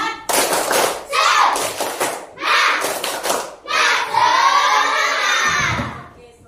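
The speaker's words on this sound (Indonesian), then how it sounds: "Tepuk semangat." A primary school class in Indonesia does a rhythmic spirit clap (tepuk semangat), with bursts of children's voices and claps in repeated groups, loud and close, ending in a longer shouted chorus.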